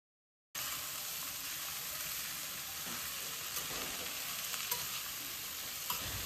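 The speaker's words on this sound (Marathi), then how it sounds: "तर एक 5 मिनटंच फक्त तेलामध्ये थोड्याशा परतलेल्या आहेत" Salted, sorted vegetables sautéing in hot oil, a steady close sizzle and hiss with faint stirring scrapes throughout after a brief silent start.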